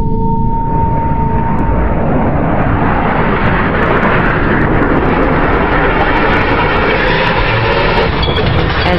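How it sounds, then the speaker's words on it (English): A single-seat FA-18 Hornet traps on an aircraft carrier deck as the arresting cable strains to breaking, a loud, continuous roar of jet engine and wind that fills the whole stretch without pause. "As this single-seat FA-18 Hornet traps, the arresting cable stretches to the breaking point."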